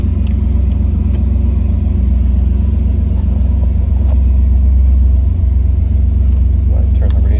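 A 1988 Pontiac Trans Am GTA WS6 engine idles with a steady, deep low rumble that stays loud and close and does not pause.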